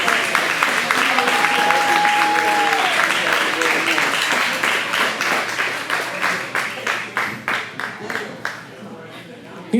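Wedding guests applaud the best man's toast with dense, loud clapping and a few raised voices, thinning into scattered individual claps that fade out at the end.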